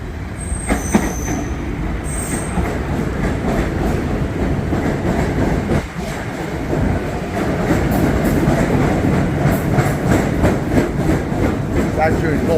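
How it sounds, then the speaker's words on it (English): An empty eight-car PATH train with its lights on rolls past at Harrison, a loud, steady rumble of wheels on rail with squealing and rhythmic clacking across the whole stretch, close by and dominant. "here comes a no passengers train"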